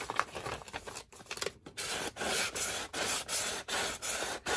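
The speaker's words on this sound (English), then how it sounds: "I really do like using the sanding block" Steady rhythmic rubbing of a sanding block against a paper edge, a series of even back-and-forth strokes, close and fairly loud.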